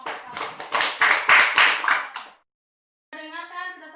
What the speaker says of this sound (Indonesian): Beri aplaus pada kelompok